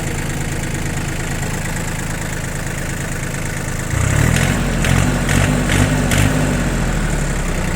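A Japanese Yanmar tractor engine starts up after a quiet stretch of background hum, then settles into a loud, steady, chugging diesel idle nearby.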